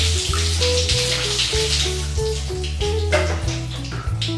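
Water pours steadily over hair during washing after a hair transplant, a continuous close splashing and trickling with no talk.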